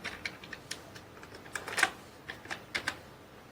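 Fingers tapping out a folder name on a computer keyboard, a quick run of light, irregular clicks up close with short pauses between bursts of keystrokes.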